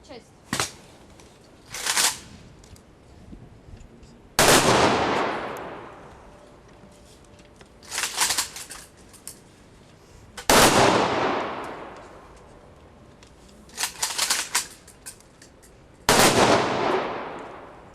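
Several sharp volleys from a military rifle salute at a memorial ceremony in Khmelnytskyi, Ukraine, ring out in turn, each a loud crack with a long echoing decay, separated by a few seconds of quieter background.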